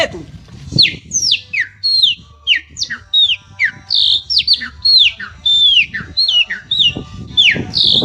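A person whistles an imitation of a pássaro preto (blackbird) song, a rapid series of clear, sweeping, bird-like notes in short phrases, loud and close with brief gaps between them.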